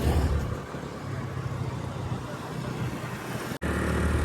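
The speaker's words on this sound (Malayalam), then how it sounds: "മുടികര ബസ് സ്റ്റാൻഡാണ്" Street traffic at the Mudigere bus stand in Chikmagalur, a steady roadside wash of passing cars and motorbikes at moderate distance, with a brief sharp knock near the end.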